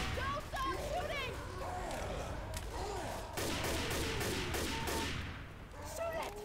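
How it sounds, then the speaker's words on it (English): Rapid gunfire from Left 4 Dead 2 survivors shooting at a Tank, dense overlapping bursts running throughout under game noise and shouted voices. "Don't stop shooting!"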